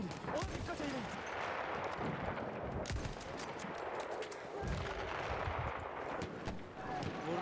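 Rapid gunfire rattles in a Battlefield 1 match at Gallipoli, dense overlapping rifle and machine-gun shots and distant explosions crackling without pause, while a player talks over the battle.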